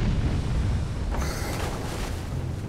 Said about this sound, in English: These are some of the largest explosions people who have worked here for a long time have ever seen.